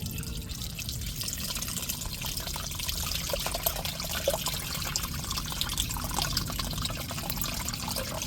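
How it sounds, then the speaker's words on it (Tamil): Dissolved tamarind water is poured into a shark fish curry, a soft continuous trickle and splash of liquid at moderate level, steady throughout with no voices. "இப்போ கரைச்சி வச்சுருக்கிற புளியை நம்ம அப்படியே எடுத்து எடுத்துக்கிடுவோம்"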